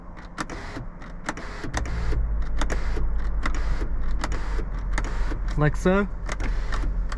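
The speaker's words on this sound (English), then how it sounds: "Here's a switch for the sunroof." Electric sunroof motor on a Mercedes-Benz S55 AMG W220, a steady close whir that starts partway through and runs to the end, while someone speaks briefly over it.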